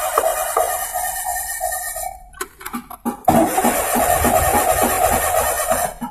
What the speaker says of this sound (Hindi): मैं सेल्फ लगा रहा हूँ। इंजन बराबर जो है राउंड ले रहा है, लेकिन जो है हमारी गाड़ी जो है स्टार्ट नहीं हो रही है